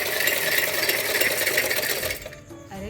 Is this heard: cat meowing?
no